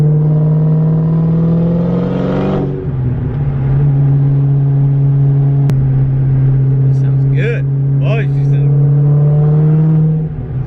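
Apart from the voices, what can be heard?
car engine accelerating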